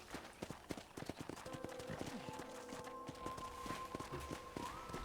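Horse hooves clip-clop in a steady walking rhythm, close by, in the video game Red Dead Redemption, with a sustained tonal hum and faint voices in the background.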